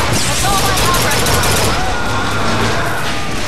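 Dense gunfire in BioShock Infinite, a loud continuous barrage of overlapping shots and battle noise with no pauses.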